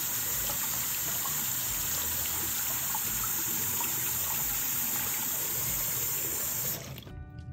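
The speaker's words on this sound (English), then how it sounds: "Hold your gun in position and run the cold water over it while holding it in position." Cold tap water pours steadily over a toy gun, a close, loud, continuous rushing stream that cuts off abruptly near the end, with no one speaking.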